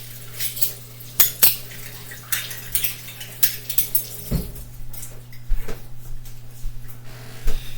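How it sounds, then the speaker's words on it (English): Spoons clinking and clattering against each other and a sink basin during washing in a home kitchen, with a steady series of close, bright metallic knocks and brief scrapes, no talking. "let me wash my spoons"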